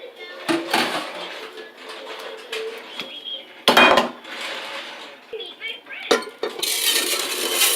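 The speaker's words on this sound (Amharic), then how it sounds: "ሩዜን እጨምራለሁ።" Dry rice grains tumble into a cooking pot in a home kitchen, a short rattling pour with metallic clinks of the pot and utensils, close and moderately loud, with brief clatter bursts and no speech.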